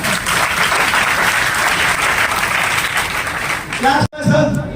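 Audience at an RCM seminar in Mughalsarai bursts into dense, steady applause for about four seconds, loud and close, before it cuts off abruptly into a different stretch of room sound.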